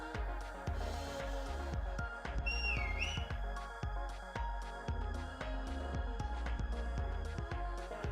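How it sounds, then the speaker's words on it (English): A person whistles outdoors during a pub quiz at a pub, the thin melodic whistle briefly rising over steady, thumping background music with a regular beat. "I wish that person outside would have stopped whistling."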